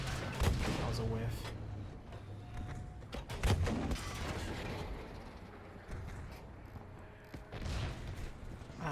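Rockets and gunfire crash through a Battlefield V firefight, with repeated loud blasts around the one-second and three-and-a-half-second marks over a steady din of combat noise and music, and a few shorter cracks later.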